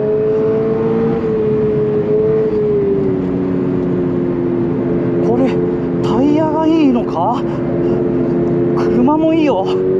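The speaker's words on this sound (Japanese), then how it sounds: "やっぱりトルクもあるし、高回転が伸びていく伸びていく速いです。" A new-generation Toyota 86 / Subaru BRZ engine pulls hard to high revs, its steady droning note filling the cabin up close while someone talks over it throughout.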